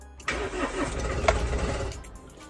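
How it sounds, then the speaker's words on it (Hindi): Mahindra Scorpio Classic S11 SUV diesel engine cranks briefly and catches, close and fairly loud, then settles toward an idle. "गाड़ी को स्टार्ट करते हैं, देखते हैं एक बार में गाड़ी स्टार्ट होती है कि नहीं।"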